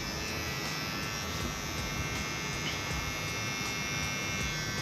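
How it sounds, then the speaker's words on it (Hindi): An electric hair trimmer runs steadily with a comb during a step-by-step haircut, giving a continuous close buzzing hum throughout with no talk. "देखिए ट्रिमर और कंघे को एक साथ मैं कैसे चला रहा हूँ"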